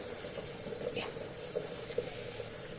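Puri-style beetroot and wheat flatbread frying in hot oil, a steady close sizzle and bubbling with faint pops, moderately quiet, with no talking.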